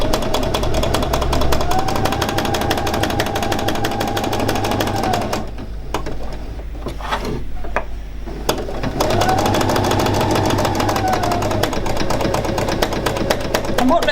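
Sewing machine doing free machine embroidery on a raw edge appliqué, a fast, loud, continuous needle rattle that pauses briefly midway with soft handling noises, then resumes, with a voice talking at points.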